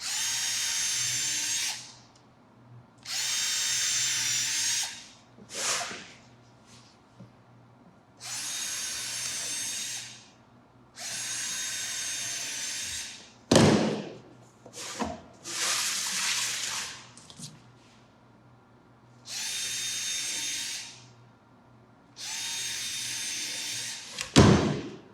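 A power drill whirs in repeated bursts of a few seconds each, pre-drilling holes and driving screws, separated by pauses and occasional clunks of tools and material.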